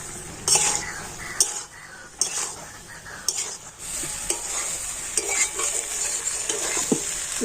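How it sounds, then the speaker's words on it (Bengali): Boiled potatoes stirred and fried with spices in a pan, a steady close sizzle broken by repeated scraping strokes of a spatula against the metal, with no talk over it. "আলুর সাথে সমস্ত মশলাগুলো আমি একটু কষে নিচ্ছি"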